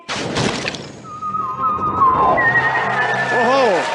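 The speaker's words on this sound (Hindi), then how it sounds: "तो फिर दरवाजा तोड़ दो दया, तोड़ दो।" A locked door is forced open on the CID set with a sharp, heavy crash at the start, then sweeping whistle-like tones and dramatic effects that rise and warble until the end.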